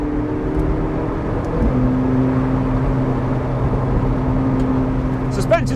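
A McLaren 675LT Spider MSO Carbon Series supercar drones steadily while driving in sport chassis mode, its engine hum continuous beneath someone speaking inside the car.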